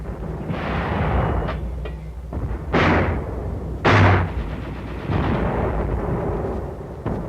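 Wartime mortar and artillery fire supporting an infantry and tank advance toward an airfield on Saipan: a rolling series of heavy booms and blasts, several strong explosions standing out over continuous rumbling battle noise, with no voices.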